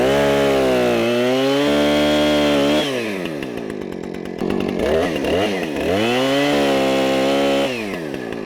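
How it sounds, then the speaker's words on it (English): A Husqvarna chainsaw cuts raw, sappy pine wood, loud and close, its engine revving up and dropping back in repeated strained surges as the chain bites, with no voices. "So let's get the old Husqvarna started up"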